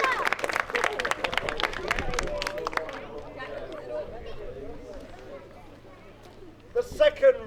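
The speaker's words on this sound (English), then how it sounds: "Give them a round of applause" A crowd at a medieval fort combat show bursts into applause and cheering, loud at first, then fading to scattered claps and murmuring chatter before a few more claps.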